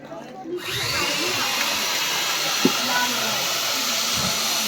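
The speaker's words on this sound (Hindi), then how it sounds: "और ये देखिए आपके सामने कैसे आरी से वो खीरे को काट रहे हैं जो उनके हाथों में रखा गया है।" A blindfolded performer runs a power saw through a cucumber held in someone's hands, giving a steady, loud whirring hiss that starts suddenly and carries on throughout.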